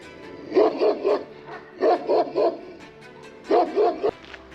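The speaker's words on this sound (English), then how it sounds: "Just had a big grey dog nearly bite me up with the arse." A big grey dog barks on a coastal hiking trail in Portugal, three bursts of two or three rapid barks each with pauses between, fairly close and loud.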